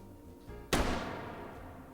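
A single heavy revolver shot in the VR shooting game H3 cracks sharply after a quiet moment, loud and close, then trails off in a lingering echoing decay.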